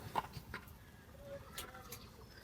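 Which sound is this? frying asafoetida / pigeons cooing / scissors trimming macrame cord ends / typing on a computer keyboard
pigeons cooing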